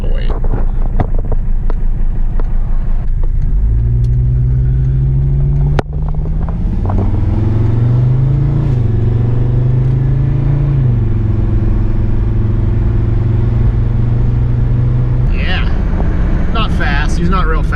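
Mercedes 300TD diesel car engine pulling away and accelerating, its low droning note climbing and shifting through gears, steady and close, with wind and cabin noise and a person talking over it.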